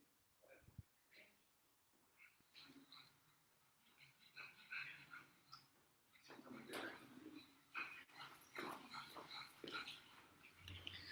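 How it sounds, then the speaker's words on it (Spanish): A pet dog at home barks and growls in bursts, getting louder and more agitated partway through, with breathy whimpers between outbursts and some room noise underneath. "salió mi perro y iba a morder a alguien"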